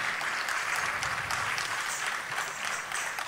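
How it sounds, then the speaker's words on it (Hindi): Dense, sustained applause from an audience after a Kathak dance performance, loud and steady throughout with no pauses. "एक बार पुनः जोरदार तालियां आपके लिए चाहूंगी"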